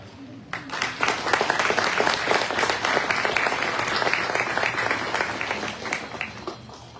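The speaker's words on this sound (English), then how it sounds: "they deserve a round of applause" An audience applauds at a 2022 christening for the vessel Mary Ann Market, a full, dense burst of many hands clapping that starts abruptly and holds strong, easing slightly at the end.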